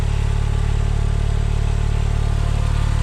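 A Porsche 911 Turbo 997 Gen 1.5 coupe's flat-six engine, derived from the Mezger block, idles steadily nearby, a smooth, even low rumble with a constant pulsing beat.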